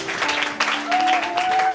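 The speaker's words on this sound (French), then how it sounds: "Applaudissez pour Jésus-Christ." Congregation applauding during a church service, broadband clapping mixed with cheers and a sustained tone, steady and close throughout the short burst.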